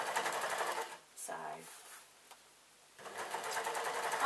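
A sewing machine stitches a mermaid skirt, running in a steady close whir, pausing briefly near the middle, then starting up again; a voice speaks quietly in the background.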